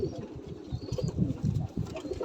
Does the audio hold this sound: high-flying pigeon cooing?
yes